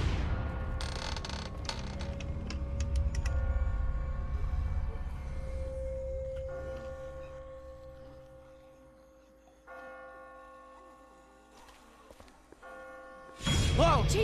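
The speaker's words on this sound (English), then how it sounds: "I just got spooked by those bells" Church-like bells toll in a tense scene of The Walking Dead video game, with creaks and mechanical clunks around them, ringing tones fading in and out before a sudden loud thump at the end.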